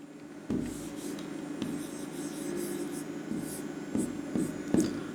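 Pen or pencil writing on paper while working a Hindi arithmetic problem about land measures, a steady soft scratching with a few firmer strokes, heard close and alone without speech.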